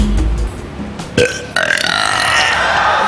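A woman lets out a long, record-setting burp of about 104.75 decibels, a loud, raspy belch that swells and holds for about two seconds after a short lead-in, with no talking over it.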